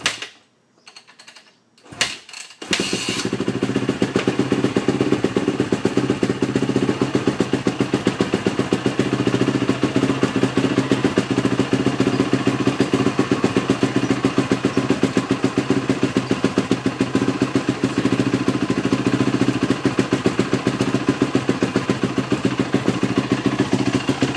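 A Yamaha YZ450F dirt bike engine sputters, briefly cuts out, then catches and settles into a loud, steady, rapid-firing idle that keeps running, choke on.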